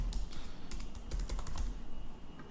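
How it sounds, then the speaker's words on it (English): Rapid typing on a computer keyboard, a quiet steady stream of close, crisp key clicks with irregular rhythm and no voices. "when we start typing out a query"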